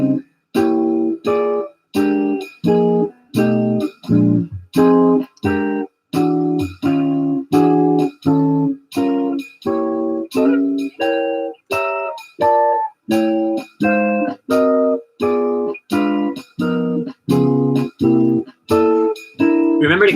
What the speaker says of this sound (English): The walking chord style is all quarter notes